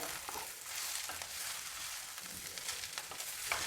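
Cucumber pieces frying in a hot pan for an Udupi-style dish, a steady close sizzle and crackle running throughout with no talking.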